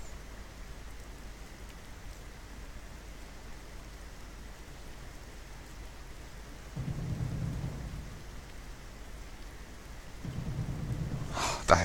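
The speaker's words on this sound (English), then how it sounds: "to the sound of delightful rain, it is actually quite lovely" Steady rain falls throughout in World of Warcraft, with low thunder rumbles rolling in around the middle and again near the end, no voices over the storm.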